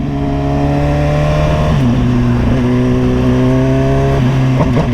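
A Suzuki GSXR 1000 and a Kawasaki ZX10R race head to head, their engines holding loud sustained high-revving tones that shift pitch together as gears change, close and powerful throughout.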